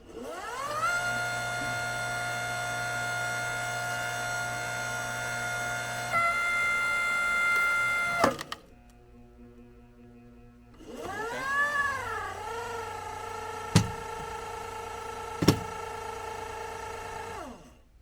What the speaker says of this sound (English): I'm going to split it once and then go again